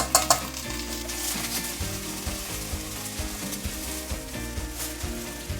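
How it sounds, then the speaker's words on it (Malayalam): Rice tossed into a pan of ghee with sautéed onions sizzles loudly and steadily up close, with repeated scraping stir strokes running through the whole stretch and no talking. "ഒരു 2-3 മിനിറ്റ് നമ്മൾ ഈ അരി ഒന്നിങ്ങനെ വറുത്തെടുക്കണം"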